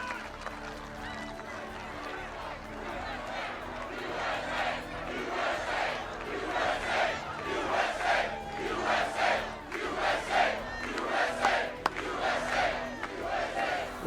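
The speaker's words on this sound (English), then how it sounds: "What an incredible crowd." A large crowd at a Donald Trump political rally roars and chants in rhythmic swells, building louder toward the middle and staying loud, with a voice faintly audible underneath at the start.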